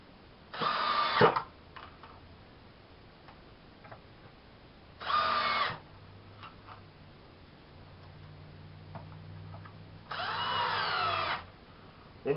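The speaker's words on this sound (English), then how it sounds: "you're going to take sheetrock screws to the other side, and you're going to sink them in" Power drill driving sheetrock screws into lumber, three separate whirring bursts of about a second each with quiet pauses between, close and fairly loud, with faint knocking and a low hum in the gaps.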